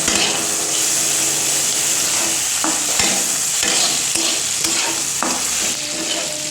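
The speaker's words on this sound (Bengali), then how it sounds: "দেখো মাছের তেলটাও কিন্তু একটু ভাজা ভাজা হয়ে গেছে, আর দেখো কত তেল বেরিয়েছে" Fish fat fries in a pan with steady loud sizzling and crackling, while a utensil stirs it with soft scrapes and taps, close and continuous with no talk.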